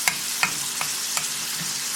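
Ground chuck fries in a pan with a constant close sizzle, punctuated about every half second by crisp scrapes as a spatula turns the meat.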